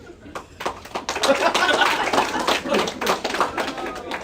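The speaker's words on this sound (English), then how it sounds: "Round of applause if your parents are divorced." Stand-up comedy crowd clapping in a scattered round of applause, dense broadband claps building after the first second and holding steady, with light laughter mixed in.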